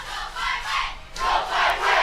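Spectators at a high school homecoming football game in Mesick roar and shout together in swelling waves, a loud, sustained crowd noise rising twice over two seconds.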